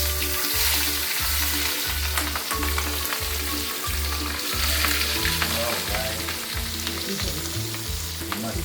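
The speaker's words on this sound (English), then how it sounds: "so we fry the prawn" Washed dried prawns fry in shallot oil with a dense, loud, continuous sizzle that crackles evenly. A steady rhythmic low thumping runs underneath, and no one speaks.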